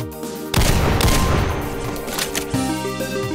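A chaingunner enemy fires in Doom 2 with the Project Brutality mod on the Tetanus map Infiltrate. A dense, loud, unbroken rattle of rapid shots starts suddenly and runs to the end over a steady game background.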